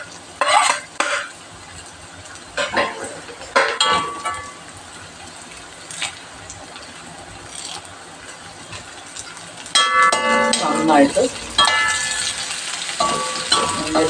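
Chili, ginger and curry leaves sizzle gently in a pan while a utensil scrapes and clinks against it in irregular bursts of stirring.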